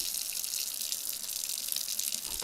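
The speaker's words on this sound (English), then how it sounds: "So I'm using some warm water and Dawn" Warm running water with Dawn dish soap rinses over a doll limb, a steady bright hiss of tap water streaming without a break, close and moderately loud; no talking.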